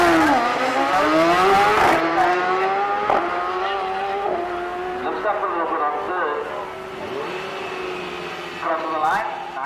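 A drag racing motorcycle launches off the line and screams down the strip, its engine note climbing steadily through several gear changes. The roar stays loud and fades a little with distance as the run goes on.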